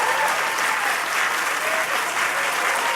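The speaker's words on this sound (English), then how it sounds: "How about another round of applause for all of these great performers?" A studio audience at Zoomer Hall applauds the performers, a dense, steady wash of clapping filling the room without pause.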